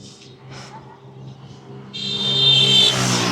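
A loud motorcycle passes along the Marine Drive road among crowds, its engine noise swelling suddenly and staying strong to the end after a quieter stretch of street background.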